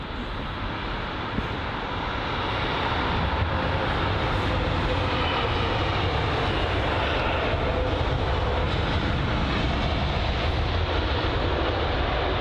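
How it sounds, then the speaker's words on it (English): A Virgin Atlantic Airbus A350 arriving from Orlando at London Heathrow gives a loud, sustained jet roar that swells and holds steady throughout, heard alone without talk. "It's the Virgin Atlantic A350. And that's arriving from Orlando"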